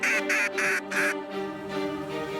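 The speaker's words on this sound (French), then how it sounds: "De petits groupes de canards sont aperçus à l'horizon." Mallard ducks quack near decoys during a late-season duck hunt in Québec, giving four loud, rapid nasal calls followed by softer, drawn-out ones, close and clear with no talking.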